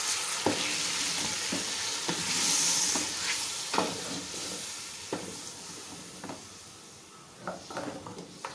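Mutton frying with tomato puree in a karahi, a steady close sizzle broken by repeated scraping stirs and clinks of the utensil against the pan, with no talking.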